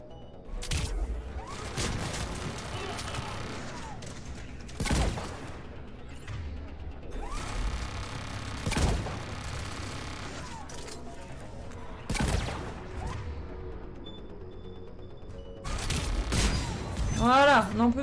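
A turret fires repeated bursts in Mass Effect 3, loud volleys recurring every few seconds over a steady game soundscape, with a voice speaking between them.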